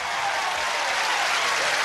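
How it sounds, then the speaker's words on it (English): Studio audience applause on the Card Sharks game show as a new challenger is welcomed, a steady dense wash of clapping filling the room at moderate loudness without voices. "Take that applause"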